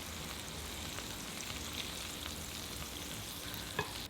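Pork belly sizzles in hot oil in a pan as it fries toward golden brown, a steady crackling hiss throughout with a brief sharper pop near the end and no talking.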